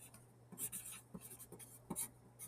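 A pencil scratches faintly across paper in short strokes and taps, quiet and close, with a low steady hum underneath.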